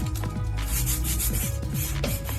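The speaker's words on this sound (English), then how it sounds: "and then sand out any crusties and brush marks" Sandpaper rubs steadily back and forth over a painted surface, a close, continuous rasping scrape with rhythmic strokes and no pauses.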